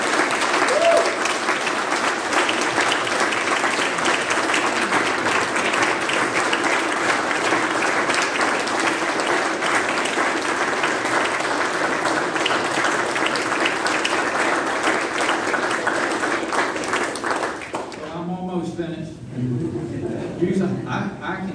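An audience at a Wythe County economic development announcement claps in sustained, dense applause for about eighteen seconds before it fades and a voice begins speaking.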